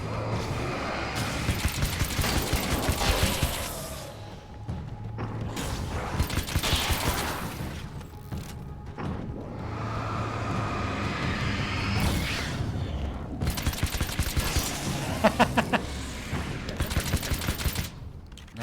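A weapon fires in repeated rapid bursts in Alan Wake's American Nightmare, with loud mechanical shots separated by short pauses throughout.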